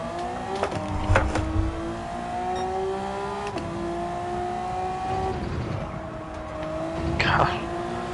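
Race car engines in Gran Turismo 7 drone steadily through an online lobby race, with sustained harmonic tones shifting pitch as cars rev and change gear, and a brief screech-like burst near the end.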